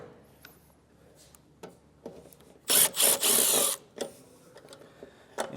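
A power drill backs out the mounting screws of an access panel bracket on a Furrion tankless RV water heater in a 2021 Forest River trailer, with a loud whirring burst midway amid close clicks and handling knocks.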